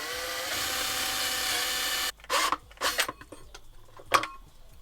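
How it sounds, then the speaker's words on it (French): A hole saw's steady, loud drone runs for about two seconds cutting a hole in a camper van, then stops, followed by several short scraping and knocking bursts. "il va falloir que je fasse un trou ici avec la scie cloche"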